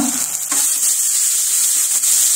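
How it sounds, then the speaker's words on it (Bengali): Spice paste of ground onion and ginger with salt and a little turmeric sizzles steadily in a pan for tofu curry, a close broadband hiss with a few soft stirring scrapes and no talk. "এবার কষিয়ে নেব ভালো করে মশলাটা"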